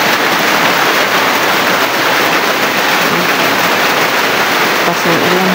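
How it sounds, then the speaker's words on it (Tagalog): Heavy rain pours down steadily, a dense, loud wash of hiss with no pauses, close and enveloping. "lakas ng ulan."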